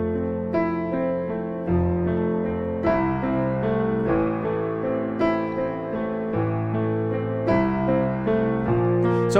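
Piano playing a steady chordal pattern, with a low bass line that adds an extra note at regular points, clear and close with no talking.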